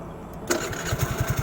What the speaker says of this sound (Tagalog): pakinggan natin kung paano siya mag-start.